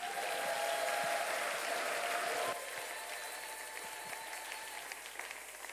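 A church congregation claps and cheers with a dense wash of applause, loud at first and then settling to a softer, steady patter of hands.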